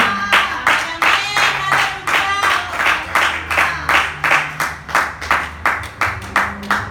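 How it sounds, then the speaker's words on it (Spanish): A church congregation claps together in a steady, rhythmic beat, sharp near hand claps repeating evenly over a low tonal backdrop and a murmur of voices. "Dele un fuerte aplauso a la gloria del Señor."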